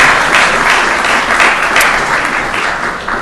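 A city council meeting audience gives a sustained round of applause for people from Greenville and Washington, a dense, even wash of many hands clapping loudly throughout without voices.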